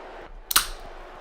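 A can of Seltzer sparkling water cracked open up close: a single sharp snap followed by a short fizzing hiss in a quiet room.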